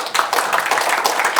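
An audience claps steadily for a professor after a lecture at a breakfast business forum, dense continuous applause from many hands in a room, loud and even throughout.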